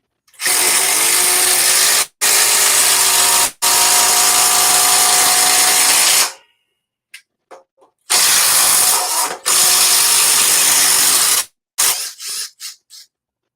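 A Makita cordless drill on super speed drives 6-inch timber lock screws into wood in long, loud whirring runs with brief stops, ending in short trigger blips close by.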